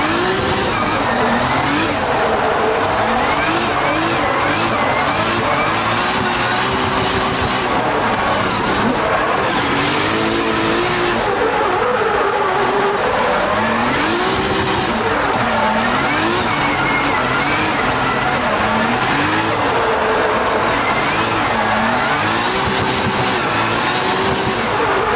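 A Nissan Skyline engine revs hard while driving sideways in a drift session, its pitch surging up and down continuously, loud and close for the whole stretch, with no talking.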